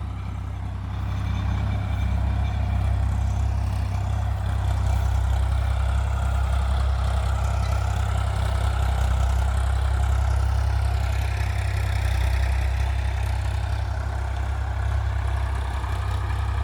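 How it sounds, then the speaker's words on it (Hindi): A modified Ford 3600 tractor engine runs steadily in a farm field, a loud, continuous low diesel rumble with a constant mechanical drone that holds evenly for the whole stretch. "किसान के लिए ट्रैक्टर बहुत बढ़िया है फोर्ड"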